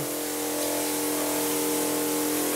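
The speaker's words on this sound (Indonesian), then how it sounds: "ini ruang musik SMP Negeri 3 Mbayat Klaten juga dilakukan penyemprotan" Disinfectant sprayed in a school music room among guitars and angklung during coronavirus prevention, a loud, steady, close hiss from a motorized sprayer with a droning pump tone underneath, continuous throughout.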